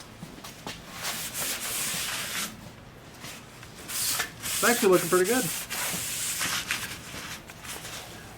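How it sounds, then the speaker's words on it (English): Steady abrasive rubbing of sanding on Bondo body filler, continuous and close, with a brief spoken remark partway through. "I've been sanding on this."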